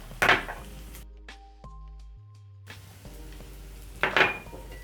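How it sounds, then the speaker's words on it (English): Eggs for a bacon and egg omelet being cracked into a bowl in a kitchen, two sharp close taps separated by a quieter stretch, with a low steady hum underneath. "So next I'm going to pick a bowl and add my eggs."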